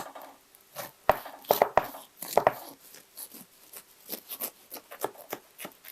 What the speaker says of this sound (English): Okay, let's cut the cake.